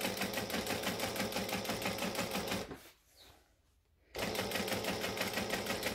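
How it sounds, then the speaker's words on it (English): A sewing machine stitching down a shoulder bag runs with a fast, steady mechanical rattle, close and loud, pauses for about a second, then resumes at the same pace. "We're going to stitch it down."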